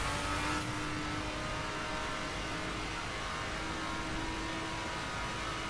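In The Crew, a RUF 3400 K on a dirt setup gives off a steady, fairly loud engine drone with a faint whine, holding nearly constant throughout.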